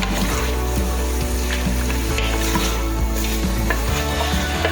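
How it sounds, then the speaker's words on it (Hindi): Meat browns in a pot for a desi chicken korma, sizzling steadily and loudly up close with a low hum underneath and occasional stirring clicks. "थोड़ा सा गोश्त को भूनेंगे।"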